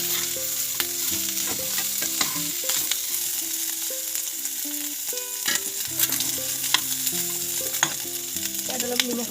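Steady sizzling of boiled pork frying in its own rendered fat in a wok, with repeated stirring and scraping of the spatula against the pan, and gentle music playing underneath the whole time.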